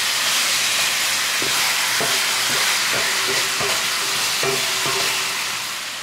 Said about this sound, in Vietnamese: Tăng lửa trên mức trung bình và mình xào cho thịt gà săn lại.